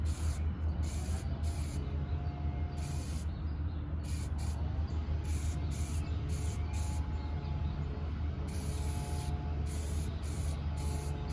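Spray gun applying a heavier second coat of tan paint to a gun frame in a hydrographics lab, a steady close hiss running nonstop with slight pulses as the sprayer is worked across the frame.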